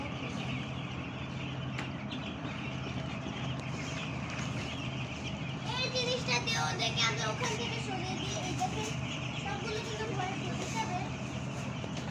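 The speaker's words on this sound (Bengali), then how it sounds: "এই মুরগিগুলোকে আমরা সরাইতে চাই এই জিনিসটা দিয়ে" Broiler chickens on a farm cluck and chatter in a low, continuous murmur, with a busier burst of clucking in the middle, while a person talks over them.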